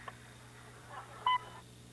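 An answering machine beep sounds once, a short clean electronic tone cutting through a quiet, faintly humming line before near silence.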